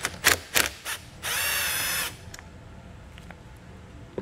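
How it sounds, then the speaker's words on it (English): A 12 mm socket turning a nut while fitting an RV air-brake flat-tow system, heard as a few sharp ratcheting clicks and then a loud, steady burst of about a second, followed by faint scattered clicks. "we're going to go ahead and remove the nut located there with a 12 millimeter socket"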